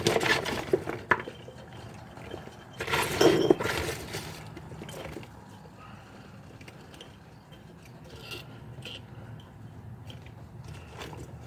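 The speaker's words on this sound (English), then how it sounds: "I'm going to keep filling these jars." Glass jars are filled with pickled mixed vegetables, with clinks of glass, wooden and utensil knocks and a short busier burst of clattering, then quieter scattered taps close by.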